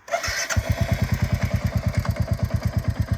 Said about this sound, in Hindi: बाइक का जो साउंड है कुछ बदला नहीं है, वैसा का वैसा ही है